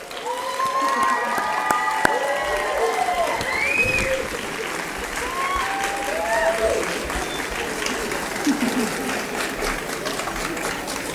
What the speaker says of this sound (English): give them a good round of applause as well